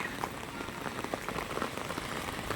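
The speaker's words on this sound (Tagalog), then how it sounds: "Especially pag ganitong maulan." Steady rain falls on a surface outside, a dense continuous patter of drops at moderate level, with no voices.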